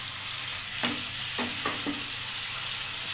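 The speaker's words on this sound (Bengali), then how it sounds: "দিয়ে ভালোভাবে মশলাটা আমি কষিয়ে নিচ্ছি" Spice paste for chicken roast, with ground coriander added, is stirred and sautéed in a pan. Ladle scrapes fall at a few irregular points over a steady, even sizzle, close and moderately loud, with no talking.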